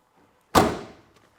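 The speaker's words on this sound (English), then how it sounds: "Door closes tightly and easily there." A 1968 Chevrolet Chevelle SS door swings shut with a single solid thunk, close and clean, followed by a brief decay and a faint latch tick, with no other sounds around it.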